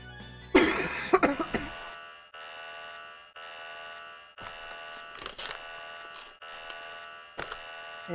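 A person coughing in bursts near the start, loud and close, with harsh throat sounds, while steady tonal beeping from a video game plays on underneath.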